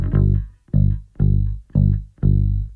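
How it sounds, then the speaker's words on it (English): An isolated bass guitar line from a rock song, rooted on G, plays five deep, round notes in an even repeating pulse, each one ringing briefly before the next. It is loud and close with no other instruments. "Here's the bass by itself."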